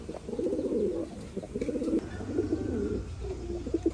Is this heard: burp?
no